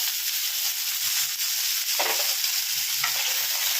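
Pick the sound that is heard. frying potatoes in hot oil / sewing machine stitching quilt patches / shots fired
frying potatoes in hot oil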